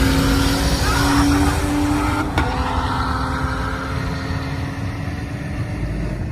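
BMW 335i with a VRSF catless downpipe exhaust, a loud, sustained engine and exhaust drone that holds steady and fades slightly over several seconds.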